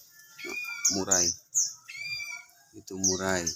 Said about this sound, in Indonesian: Itu murai.